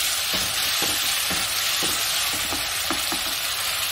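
Salt being stirred into malai kofta gravy in a pan, a steady sizzle under repeated scraping spoon strokes at a loose, even rhythm, close and fairly loud, with no talking.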